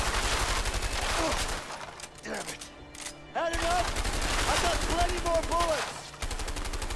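Rapid automatic gunfire in the game A Way Out, loud continuous bursts that stop briefly midway, with shouting voices and other game sounds mixed over the shots.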